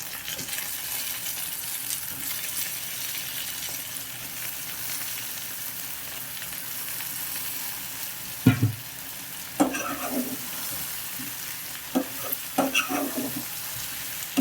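Brinjal pieces fry and sizzle in hot oil for an eggplant, mango and dried fish curry, a steady sizzle with louder bursts of stirring and scraping toward the end, close and without talk.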